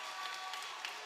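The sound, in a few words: crowd applause at boys basketball game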